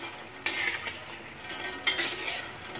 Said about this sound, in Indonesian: Ini kita goreng sambil terus diaduk biar matangnya itu merata